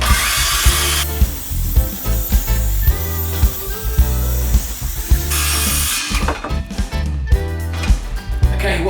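A power saw rips recycled timber into strips, its loud motor whine running steadily through most of the stretch with bursts of cutting noise and clattering wood near the end.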